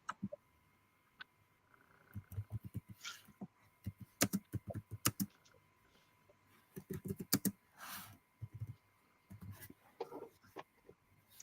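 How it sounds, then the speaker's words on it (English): Typing on a computer keyboard indoors, quiet irregular bursts of key clicks with short pauses between runs, heard alone without talk. "I'm typing."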